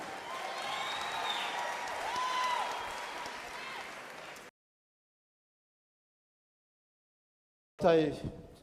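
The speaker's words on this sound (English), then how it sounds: "Ladies and gentlemen, another round of applause" An audience at a navy gala concert claps for several seconds, fairly distant and even, then the sound drops away and a voice briefly starts.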